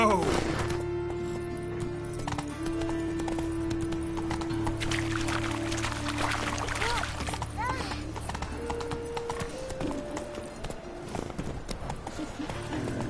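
Roach the horse's hooves clip-clop steadily through the Witcher 3 game world, close and clear, with a brief whinny and game music and voices running underneath.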